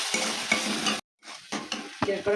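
Tomatoes being stirred in a hot frying pan while cooking palak paneer, a busy sizzle broken by scraping strokes, cutting out briefly to silence before resuming with several sharp spoon scrapes.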